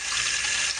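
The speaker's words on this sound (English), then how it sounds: "For the grits, I'm gonna put some more water in the pan." Water runs from a tap into a pan for grits, a steady, loud, close hiss of flowing water with no breaks and no voices.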